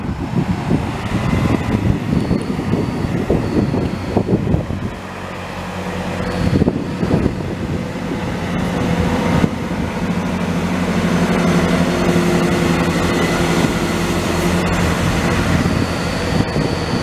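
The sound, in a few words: Chiltern Railways class 165 train departing Denham station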